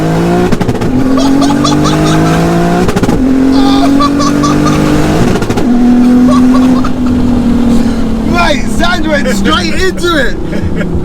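A modified sleeper car launches at full throttle, its engine roaring loud and close as the revs climb and break at shifts. Excited voices are heard over the engine.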